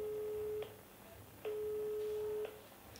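Two long steady telephone tones ring out on a call that goes unanswered, each lasting about a second, separated by a short pause, clear but moderately quiet over faint room noise.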